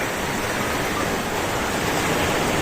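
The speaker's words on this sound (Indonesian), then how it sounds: "di sini merupakan bibir tepi pantai Nusa Kambangan yang lautnya ini langsung masuk ke Samudra Hindia" Surf from the Indian Ocean breaks on the shore of Nusa Kambangan as a loud, continuous roar of washing water with no distinct breaks and no voices.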